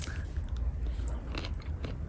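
Raw kale leaves fresh from a winter garden bitten and chewed up close, a steady stretch of crunchy, wet mastication with a few sharper crisp bites, no talking.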